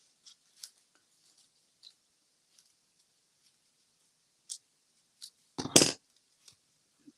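Scissors cut vellum paper with light, crisp snips scattered across the quiet, then a louder close burst of cutting near the end, with no voices.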